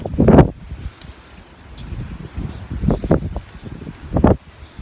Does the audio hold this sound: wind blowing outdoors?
yes